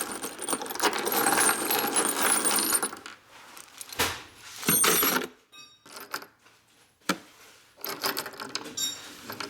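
Loose metal bolts and screws rattle and clink as a pile is sorted by hand during work on a 1983 Harley-Davidson FXRT Shovelhead, with bursts of jingling separated by short pauses, close and fairly loud.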